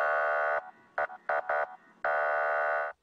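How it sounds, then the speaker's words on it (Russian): A traffic police Trekol all-terrain vehicle sounds its siren in Norilsk: a loud, steady electronic wail, then three short clipped bursts, then another long sustained tone. No voices are heard. "но и сирену включить."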